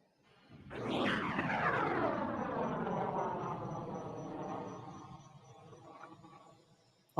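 An F/A-18 Hornet jet makes an airshow pass, its roar swelling in and then fading with a sweeping, descending whine, heard at a distance with no talk over it.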